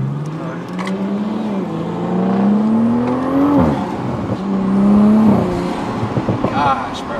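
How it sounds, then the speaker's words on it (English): A turbocharged car's engine rises and falls through revs with a whining turbo whistle on top, loud and close from inside the cabin, while people talk over it. "Just the turbo sound might be better than the supercharger."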